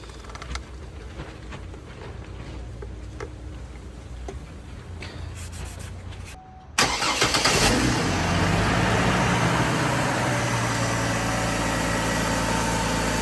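A 2005 Chevy TrailBlazer with a 4.2L engine idles steadily right after an oil change, a low continuous running drone that grows louder and fuller partway through, with no one talking.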